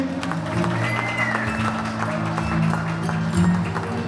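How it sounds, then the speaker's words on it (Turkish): Wedding guests at an engagement ceremony in Yozgat applauding the bride and groom, steady crowd clapping under loud music and an announcer's voice. "Alkışlar daha güçlü olsun onlar için"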